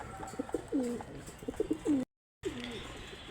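A male pigeon at a pigeon farm gives repeated soft, throaty coos in short rhythmic bursts. The sound cuts out briefly and then resumes with more cooing against faint room noise.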